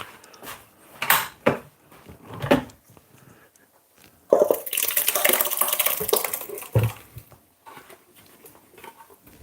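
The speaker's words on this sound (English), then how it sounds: "All right, I'm gonna pour this out." Liquid from a Jamaican green seasoning blend poured out of a container, a loud sustained splashing stream lasting a few seconds, with scattered clinks and knocks before and after.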